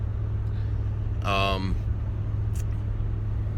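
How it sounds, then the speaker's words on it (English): Saturday morning traffic in New York City, a steady low road rumble running throughout with a brief tonal burst midway, like a horn or a passing voice. "it's Saturday morning traffic in New York City"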